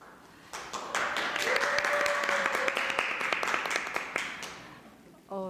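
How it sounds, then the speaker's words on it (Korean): An audience at a youth environmental education report meeting claps for a speaker coming up, applause swelling quickly from a few sharp claps into a full, steady round, then thinning to scattered claps before a voice begins. "큰 박수 감사합니다."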